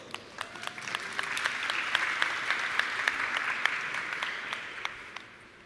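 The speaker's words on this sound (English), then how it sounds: "Let's give a warm applause." Sustained audience applause fills a talk on AI prototyping, a dense steady wash of many hands clapping at moderate loudness that swells slightly in the middle and tapers near the end, with no voices over it.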